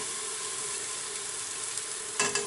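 Onions frying in a pan with stock, a steady hiss of sizzling with a short burst of louder crackle near the end, close and alone without talk.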